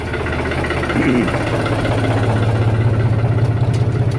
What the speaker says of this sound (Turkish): Traktör geliyor.